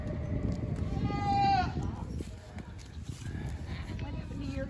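A goat at a farm in Kensington Metropark gives one clear, wavering bleat near the start, with people talking softly in the background and farm noise continuing afterward.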